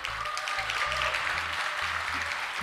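A crowd claps at a 2012 Boņuks celebration marking a birthday, a brief dense patter of applause with a faint background tone and low thumping underneath.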